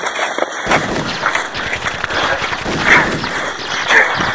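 Dense gunfire fills a war web series battle scene, with repeated loud, sharp shots and blasts over a rumbling, chaotic background and no clear pauses.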